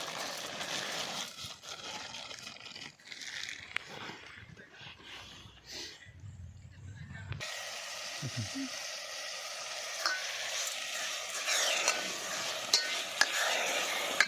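Sugar syrup stirred and simmering in a pan outdoors for coconut barfi, with a steady soft sizzle and scraping, a brief quieter patch midway, then continued bubbling and stirring.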